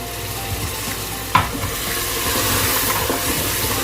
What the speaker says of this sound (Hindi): अब हम इसमें एक कप दही डाल देंगे